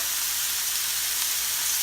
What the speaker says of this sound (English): let's give it a stir before I go crazy, chopping it all up